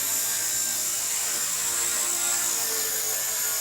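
The rotor of an XK fixed-pitch RC helicopter spins at low throttle, making a steady close whir with a high-pitched mechanical whine that holds evenly throughout.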